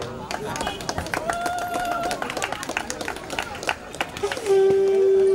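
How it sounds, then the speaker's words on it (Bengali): Crowd clapping in scattered bursts with warbling ululation at a welcoming ceremony during a village Annapurna puja marking fifty years, mixed with talk and chatter, then a held tone near the end. "করতালি ধ্বনি এবং উলুধ্বনির মধ্য দিয়ে এই বরণ পর্ব চলছে"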